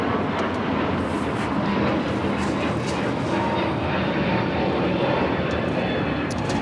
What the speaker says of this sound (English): This is United Airlines 1260 taking off to Denver on the A321neo